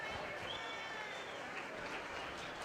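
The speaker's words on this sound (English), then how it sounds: "let's give all those exhibitors a nice round of applause as they head back to their pens" Sustained applause from an arena audience for market hog show exhibitors heading back to their pens, a dense, even roar of many hands clapping at a distance throughout.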